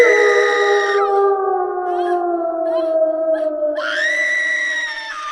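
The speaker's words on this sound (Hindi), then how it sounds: "किसी ने बुरी तरह चीखते हुए मदद के लिए पुकारा" Horror-style shriek from a haunted temple at an ancient cursed ashram: sustained, loud, wailing tonal cries that pause, then swell again in a rising howl, with no talk over it.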